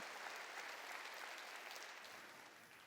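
Church congregation applauding during a sermon, a dense wash of many hands clapping at some distance, steady at first and then slowly tapering off.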